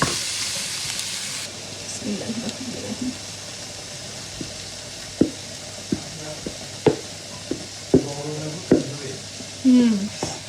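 Vegetables stir-frying with green chilies and cumin in a pan, a hissing sizzle broken by sharp spatula knocks and scrapes against the pan, with brief voices in between.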